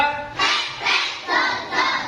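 Classroom students clap in a counted pattern during a religious studies lesson, three rhythmic bursts of hand claps close and fairly loud, with no talk over them.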